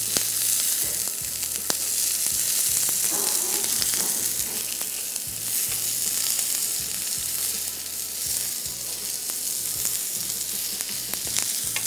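Onions and red and green chillies sizzle steadily on a hot grill pan, a dense crackling hiss with occasional soft knocks and clatter as pieces are turned, close and continuous with no talking.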